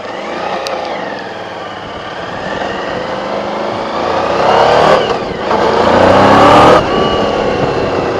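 A scooter engine revs and accelerates while riding on a gravel road, loud and close, rising in pitch through the gears with a steady roar.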